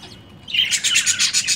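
Budgie chicks in a breeding colony chirp in a rapid, rhythmic run of high, close begging calls while the male feeds them, beginning after a brief quiet start.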